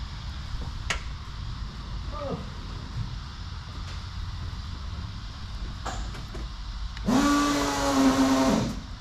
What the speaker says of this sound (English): Oh, you're leaking fuel, mate.